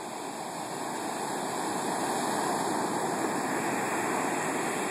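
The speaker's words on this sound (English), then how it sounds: "Waves are pretty big here from the storm surge." Big ocean waves from Hurricane Katia's storm surge break along the Bay of Fundy shore at Saint John, New Brunswick, a continuous loud roar of surf with no pause.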